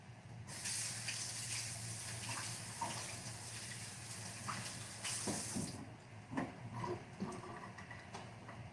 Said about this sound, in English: I have some chocolate on my hand I'm going to wash off really quick.